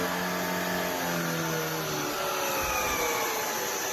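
Shark IZ362H cordless stick vacuum running over carpet, a steady whining motor hum with brush roll rumble, loud and close throughout.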